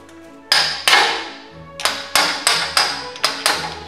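Repeated loud metallic hammer blows knocking a Toyota Tacoma CV axle through its steering spindle, seven or so ringing strikes with short decays, heard close and alone.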